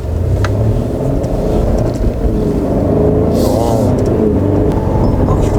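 A Mercedes-Benz E350 sedan with a nine-speed transmission accelerates hard in sport mode, its engine and road noise forming a loud, steady rumble heard from inside the cabin.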